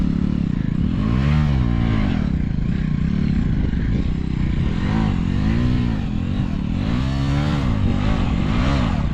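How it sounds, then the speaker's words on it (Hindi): A motorcycle stuck on a rough off-road track in Ladakh revs hard and continuously, engine pitch rising and falling in repeated surges with clattering, loud and close. "इस रोड पे बाइक फंस गई है, निकल नहीं रही है।"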